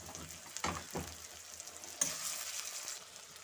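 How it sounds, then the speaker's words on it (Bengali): Potatoes and tomatoes fry with spices in a pan, a soft continuous sizzling hiss with a few sharper crackles and stirring bumps, close and fairly quiet. "এখানে আমার আলু টমেটো এগুলো ভাজা হয়ে গেছে"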